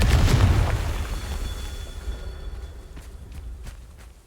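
A Confringo fire spell explodes in Hogwarts Legacy, a loud booming blast at the start that rumbles and fades over several seconds, with a few light taps after it.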